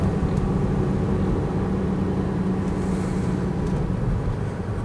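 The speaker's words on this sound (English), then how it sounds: "Clicks into top gear there." Rover P5B coupe cruising with a steady low engine drone and road rumble, shifting into top gear, close and continuous with no talking.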